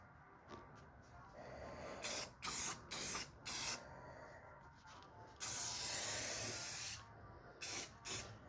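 Clear coat is spray painted onto a bicycle frame in short hissing bursts, a few quick pulls followed by a longer spray and more short bursts, close and fairly quiet.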